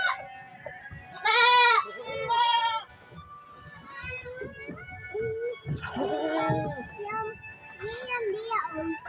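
An Etawa dairy goat bleats loudly twice in quick succession, nearby, while someone talks and other voices murmur in the background; another wavering bleat follows later under the speech.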